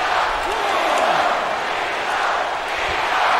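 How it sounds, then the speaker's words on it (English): Wrestling arena crowd in the video game WWE 2K22, a loud, continuous roar of massed voices filling the whole clip with steady intensity and no clear individual speech. "The sound of this crowd is deafening, and he's asking for more."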